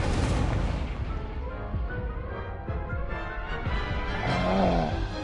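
A fire spell cast in a Hogwarts wizarding video game, a dense roaring burst that flares and rumbles like a blast for several seconds, loud and continuous with no speech over it.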